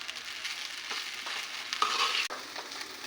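Ghee heats and sizzles in a pan of rice on a gas stove, a close, steady frying hiss with a few soft stirring scrapes and no talk.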